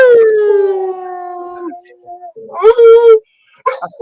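A pet dog lets out a loud, close, drawn-out howl that slowly falls in pitch. After a brief pause, shorter yowling bursts follow.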